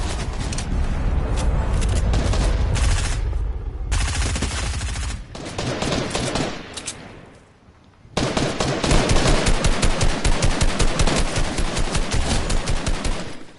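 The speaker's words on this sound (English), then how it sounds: "his players shooting at me now" Rapid bursts of video game gunfire from players shooting, near and loud: dense automatic fire that pauses briefly midway, then resumes as a steady rattling stream.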